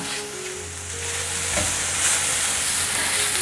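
Food seasoned with salt, five-spice powder and white pepper is stir-fried quickly in a wok, giving a steady close sizzle and hiss with scraping stirs throughout.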